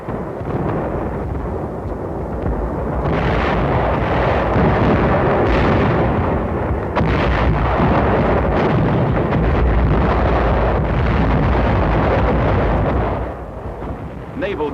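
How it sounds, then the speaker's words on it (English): Artillery barrage pounding a Japanese settlement on Saipan in World War II, a loud continuous rumble of distant and near gunfire and blasts rolling together without a break. "Our artillery fired at the capital."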